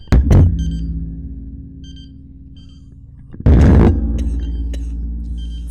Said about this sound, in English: I wanted you to hear the beeping